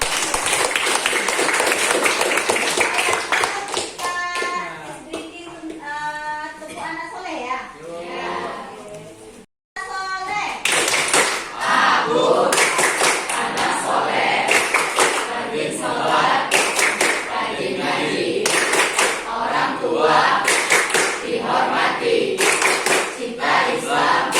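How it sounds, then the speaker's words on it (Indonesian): A classroom audience claps, with bursts of mixed applause and children's voices chattering and calling out between and over the clapping, loud and close. "tepuk tangan untuk Apis"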